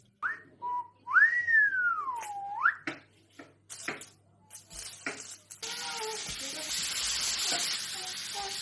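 Cut pieces of food fry in oil in a pan, with garlic and parsley added soon after. A few whistled notes and scattered knocks come first, then a steady, close sizzle takes over for the last few seconds.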